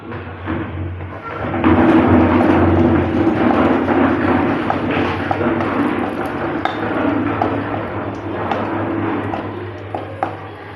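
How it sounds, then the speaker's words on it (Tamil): Raisins roast in ghee in a pan on the stove, giving a soft continuous sizzle with scattered scraping and clinks from stirring, fairly close and steady throughout. "நம்ம நெய்யில் கிஸ்மிஸ் பழம் எல்லாத்தையும் வறுத்தரலாம்"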